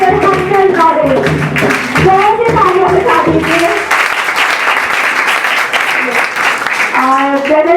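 An audience at a church Bible study gathering bursts into applause, a dense wash of clapping that rises as an announcer speaks and continues loud and sustained afterward.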